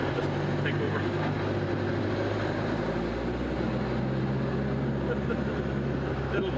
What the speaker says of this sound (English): I'm climbing a very steep hill currently. Fourth gear, just take over.